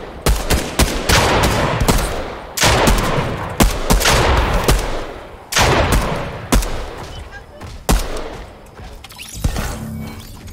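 Gunfire in the Fortnite video game: repeated loud single shots and short rapid bursts crack out in irregular clusters, with brief pauses between volleys and faint talk underneath.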